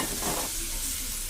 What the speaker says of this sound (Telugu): అలాగే ఆనియన్స్ కూడా ఫ్రై అయిపోయాయి కదా